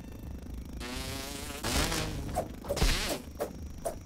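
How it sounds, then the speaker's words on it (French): Mosquito in the Grounded survival game: a whining buzz drifting in, followed by sharp swishing whooshes and a couple of thwacks as it is swatted, close and fairly loud. "on va tuer le moustique parce que sinon ça va être la merde"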